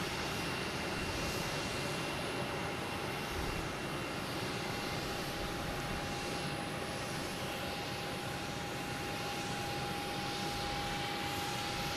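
Near Boston Logan Airport, an arriving aircraft produces a loud, continuous broadband engine roar with a steady high whine running throughout, no voices.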